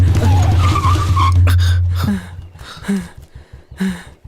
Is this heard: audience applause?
no